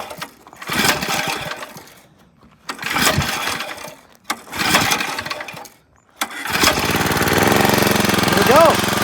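A little Briggs & Stratton engine on a Brutus lawn roller is pull-started three times, each pull a short rough burst with pauses between, and then it catches and runs steadily at a loud idle.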